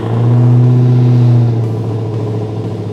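A Dodge Challenger Hellcat RedEye engine roars loud and close, holding a deep rev for over a second before dropping back to a rumbling idle.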